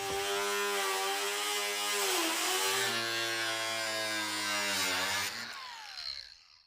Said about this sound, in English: what he's doing with the hole saw is drilling at each corner